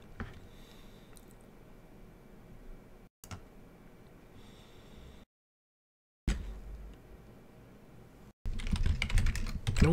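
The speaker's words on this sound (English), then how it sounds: "Nope, not even remotely close to typing that in the right spot." Clicky computer keyboard typing comes in quiet, uneven runs of keystrokes, cut by short silent gaps, ending in a louder, faster burst of tapping.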